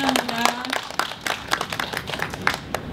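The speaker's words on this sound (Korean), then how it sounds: "한번 큰 박수를 보내주시기 바랍니다." Applause from the audience at the opening ceremony of an art tower. After a brief tone, scattered claps build into a loose, uneven round, with some voices mixed in.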